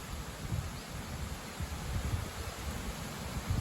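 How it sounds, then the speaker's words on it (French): Strong wind gusts of up to 70 km/h tossing the leaves of ash trees, a broad continuous rushing rustle with low buffeting surges, close and steady. "Que ça bouge beaucoup hein, avec les feuilles."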